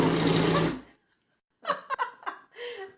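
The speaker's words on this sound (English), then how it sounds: "Listen to that Vitamix work." Vitamix blender whirring loudly through roasted vegetable soup, a dense steady roar that cuts off abruptly under a second, followed after a pause by a few people talking and laughing.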